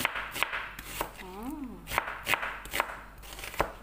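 A knife chopping onion on a board while cooking a lentil and rice dish, with about a dozen evenly spaced, close, crisp chops and a brief voice-like sliding tone midway.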